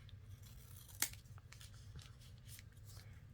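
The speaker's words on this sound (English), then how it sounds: "So now I can cut this little bit off." Scissors snip off a small piece of a paper folio close by, one crisp cut standing out among quiet paper rustles and handling sounds, with no talking.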